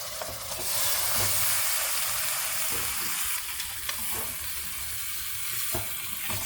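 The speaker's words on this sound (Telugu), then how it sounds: "ఇప్పుడు కడిగి పెట్టుకున్న చికెన్ కూడా వేసేసుకున్నాం." Washed chicken pieces fry in a pan for Andhra gongura chicken curry, giving a loud hissing sizzle that swells at the start, with intermittent stirring clinks and scrapes throughout.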